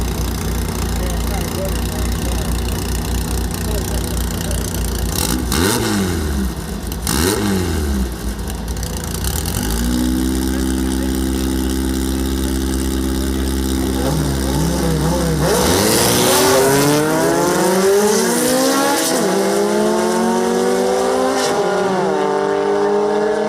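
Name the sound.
drag racing cars, Carmen Ghia wagon against Warbird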